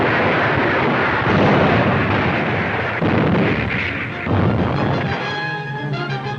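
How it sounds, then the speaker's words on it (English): Naval guns of the cruiser Savannah shelling the beach during the 1943 Salerno invasion of Italy, heard as a continuous loud rumble of heavy blasts and booms with a rough, old newsreel quality throughout. "The Savannah's heroic men continue to shell the beach as the American Fifth Army invades Italy."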